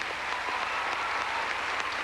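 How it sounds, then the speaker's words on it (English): A crowd applauding a gymnastics floor routine, steady dense clapping that fills the arena at an even level, distant and continuous. "They were clapping to her routine"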